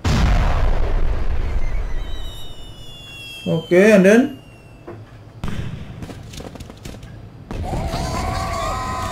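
Firecracker blasts in the video game Super Mario Odyssey come as a few dull booms and pops mixed with warbling game sounds. Someone talks over them throughout.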